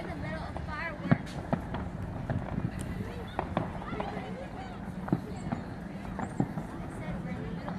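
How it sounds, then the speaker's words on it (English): Fourth of July fireworks over downtown Cincinnati, a handful of sharp distant bangs popping every second or two beneath steady nearby crowd chatter and people talking. "I said we're in the middle of fireworks show."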